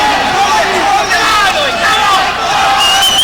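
A dense, loud roar of cheering fills a boxing arena as a home crowd welcomes back their world champion, a continuous wash of shouting voices with no pauses.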